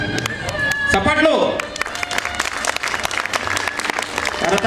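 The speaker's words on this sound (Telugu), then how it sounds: "కరతాళ ధ్వనులు." An audience at a Telugu poetry gathering in a hall bursts into applause, dense clapping that swells, briefly dips, and continues while a voice speaks over a microphone.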